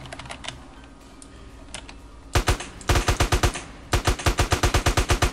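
Rapid bursts of automatic gunfire from GTA San Andreas Multiplayer, starting after a quiet stretch and then firing in fast repeated volleys.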